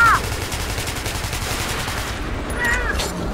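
Rapid automatic gunfire from a weapon in the video game Metro: Last Light rattles continuously for a few seconds, with faint higher electronic tones near the start and end.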